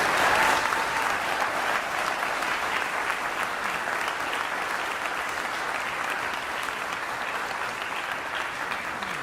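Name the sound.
audience applause at a band concert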